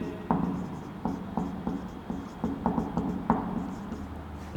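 A teacher writing notes, a steady series of soft scratching strokes at an even rhythm, close and fairly quiet, with no talk over it.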